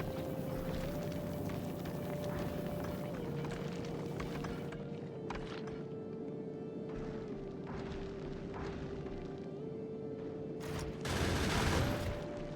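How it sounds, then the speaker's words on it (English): Gunfire in the factory-building game Factorio, a rapid continuous rattle of automated turret shots layered over a steady droning game soundtrack, with a louder burst near the end. "Okay, the gunfire has started."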